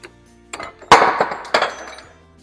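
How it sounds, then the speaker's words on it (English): A hydraulic press forces a bearing and bushing out of a mini skid steer track roller, using a nut on a half-inch bolt as a spacer; a few sharp metallic clanks and creaks sound close up, with one loud crack near the middle. "let's continue pressing this out and see if we can get the whole bearing out."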